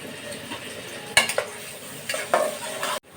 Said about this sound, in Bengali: এখন আমি পরিমাণ মতো তেল দিয়ে দেব আমি এখন পেঁয়াজ দিয়ে দেবো